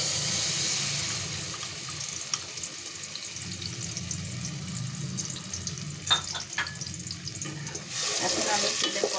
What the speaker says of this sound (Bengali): এবার আমি তেলের পরে মশলাটা ঢেলে দেব।